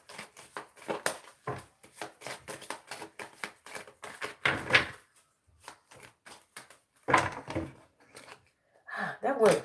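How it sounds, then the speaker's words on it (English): Tarot cards being shuffled by hand at close range: quick, crisp flicks and riffles in uneven bursts with short pauses, plus a few louder slaps and shuffles of the deck, and a voice speaking briefly near the end. "I just started shuffling"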